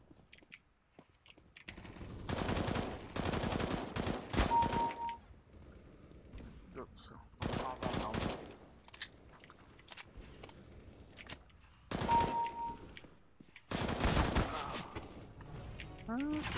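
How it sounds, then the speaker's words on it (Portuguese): Repeated machine gun bursts ring out in a video game, rapid rattling volleys coming in several separate bursts between quieter stretches, with players talking over the gameplay. "Pegou um tiro daquela saraivada de bala ali."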